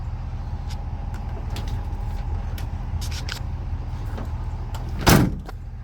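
A 2021 Ford F-250 King Ranch's tailgate step is pulled out, giving a single solid clunk near the end over a steady low vehicle hum.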